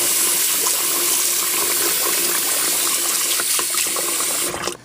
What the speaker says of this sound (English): take some bleach and pour it in this middle part here